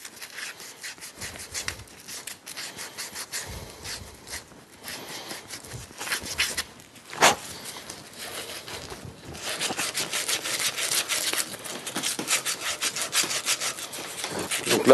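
A brass fitting is scrubbed clean before tin soldering, giving a steady run of close, scratchy back-and-forth rubbing strokes that grow denser and louder toward the end, with no speech.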